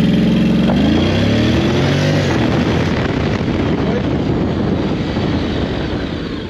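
A Honda X-ADV 750 scooter pulls away hard from a standstill, the engine note climbing in a rising rev before settling into a loud, steady roar that fades slightly at the end.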